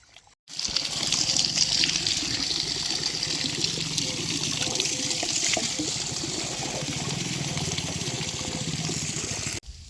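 Irrigation water runs along a channel in a cotton field, making a steady, close rushing and trickling sound. It starts abruptly and flows evenly throughout.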